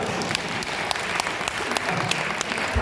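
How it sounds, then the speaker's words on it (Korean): An audience claps together at a talk, a loud, dense and even burst of applause that holds steady throughout with no speech over it. "박수 한번 주세요."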